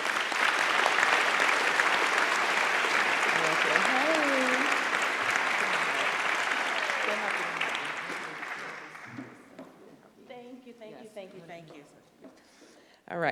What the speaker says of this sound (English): So please give us a round of applause for Kia